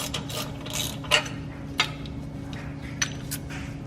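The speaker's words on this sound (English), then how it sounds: "now we can remove these two bolts from the back" A ratchet works loose 14mm exhaust bolts on a BMW E82 downpipe with an N55 engine, giving a few faint clicks and light metallic clinks over a steady low hum.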